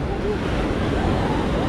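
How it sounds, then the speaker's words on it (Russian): Surf washing onto a crowded beach in Phuket, a steady low rush of breaking waves mixed with wind buffeting the microphone, with faint voices in the background. "Волны крутые, да"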